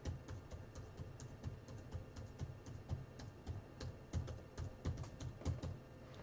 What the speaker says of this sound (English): I'm simply just going to type in 1 through 12, hit random a single time